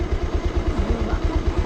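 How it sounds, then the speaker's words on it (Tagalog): A Bajaj Rouser 180 motorcycle engine rumbles close by in a steady, fast, low pulsing idle as the bike rolls backwards on a steep mountain road. "Nabitin si Kimbros kaya umatras yung motor niya"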